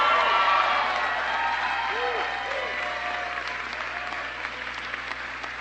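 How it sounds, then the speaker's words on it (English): Crowd applauding at a U.S. Senate re-election victory speech in Ohio, dense sustained clapping from a large audience that gradually thins, with faint voices mixed in. "He's applauding himself."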